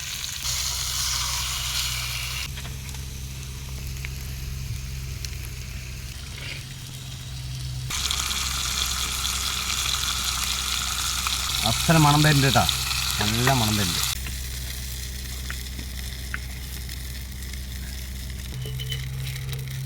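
A large fish frying in coconut oil in a Palakkad kitchen gives a steady, loud sizzle throughout, with brief bursts of crackling midway, while someone talks over it.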